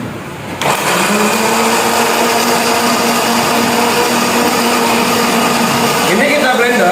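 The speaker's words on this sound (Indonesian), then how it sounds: "Ini kita blender sampai halus ya." A blender whirs steadily while mixing ingredients for homemade mosquito repellent lotion, with a loud continuous motor drone that begins after a brief quiet start and runs throughout.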